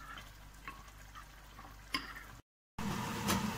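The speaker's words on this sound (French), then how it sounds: "Voilà donc notre eau qui bout." Water for pasta comes to a boil in a pot in a home kitchen, a steady soft bubbling and hissing with a few brief clinks, heard alone with no talk.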